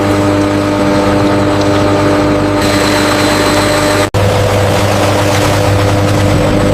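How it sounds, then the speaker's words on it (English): High-speed mixing machinery in a kiwi juice factory runs as a loud, continuous mechanical drone with steady low hum and tonal whine, alone, broken only by one brief dropout. "High-speed mixing ensures complete consistency."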